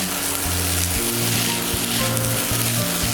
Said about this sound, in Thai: ให้คุณแม่ผัดแล้วเดี๋ยวเรามาดูโฉมหน้าของข้าวผัดเบคอนของคุณแม่กันจ้า